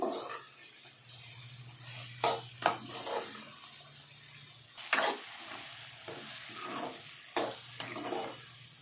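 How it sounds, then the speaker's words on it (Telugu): Mango chutney frying in a pan: a soft, continuous sizzle with a low hum underneath, broken by a few clattering stirs of a utensil against the pan, close and moderately quiet, with no one talking. "కొంచెం వేగాలండి, పచ్చి వాసన పోయినట్టు కొంచెం వేగాలండి"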